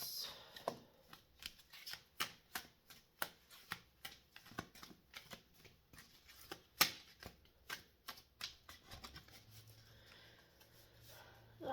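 Tarot cards are shuffled close by, a rapid series of crisp riffling bursts and taps in an irregular rhythm, with a louder snap partway through and quiet room tone between bursts.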